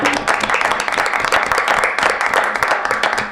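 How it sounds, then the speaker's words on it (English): Audience applause at a village board meeting fills the room steadily, a dense, continuous wash of many hands clapping at close range with no pauses. "So applause all around for Judy Weintraub."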